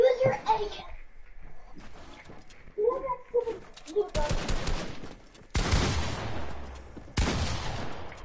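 AK rifle gunfire in a video game arrives in three loud full-auto bursts in the second half, after a voice talks over game sounds at the start.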